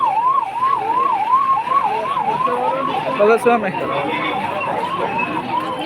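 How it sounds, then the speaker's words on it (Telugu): An ambulance siren wails in a steady up-and-down rhythm, loud and close, on a street in Kanyakumari, with someone talking over it and traffic rumbling beneath. "అంబులెన్స్ కూడా వస్తుంది చూడండి ఫ్రెండ్స్"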